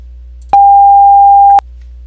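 A pure, steady 800 Hz sine tone sounds for about a second, starting and stopping abruptly over a low background hum.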